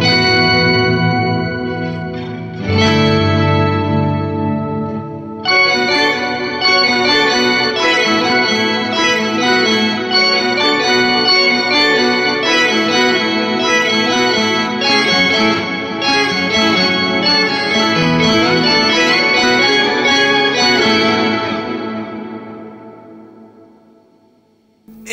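Layered synth chords through an ambient delay and reverb pedal wash together in a lush, echoing ambience, repeating notes blurring into a dense sustained texture that swells, holds and then fades out.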